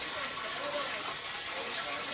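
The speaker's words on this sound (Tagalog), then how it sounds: "Tapos buksan mo na rin yung gripo." Water gushes steadily from an opened faucet into a pitcher, a constant close hiss with no breaks.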